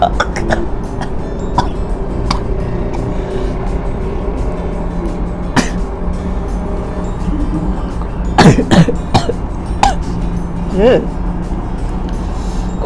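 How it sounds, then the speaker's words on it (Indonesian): Several sharp coughs burst out in a cluster over a steady background hum with faint murmuring, during a saliva and nasal swab rapid antigen self-test. "Batuk."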